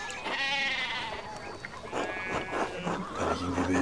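Sheep in the video game Pentiment bleat in a burst of loud wavering cries, one after another, with their escape through a broken fence suggested by the scene, followed by softer bleats and a low hum.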